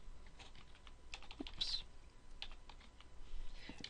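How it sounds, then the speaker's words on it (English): Quiet, steady keystrokes on a computer keyboard, a run of small close clicks in an uneven rhythm continuing throughout at low level. "I'm going to go ahead and type, this is a paragraph."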